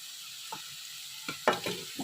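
Spices go into a pan of frying onion and garlic for a vegetable dish, giving a few quiet bursts of sizzle and stirring scrapes that swell near the end, with no talk.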